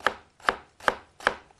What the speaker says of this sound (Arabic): طيب تعالوا اوريكم تقطيعه تاني للجزر علشان برضو تشوفوها